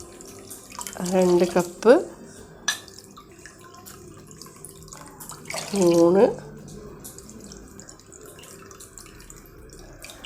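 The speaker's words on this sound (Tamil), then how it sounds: "4 கப்பு தண்ணி இதில் விட்டுருக்கேன்" Cups of water are poured into a pan during halwa cooking, heard as two short gurgling pours a few seconds apart. Someone speaks between them.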